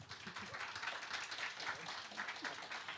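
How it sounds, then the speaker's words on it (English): Audience applause for business award winners, a dense continuous patter of many hands clapping at a fairly even, moderate level from start to finish. "We'll give them a round of applause."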